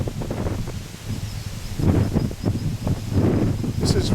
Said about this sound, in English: I'll just let this wind die now.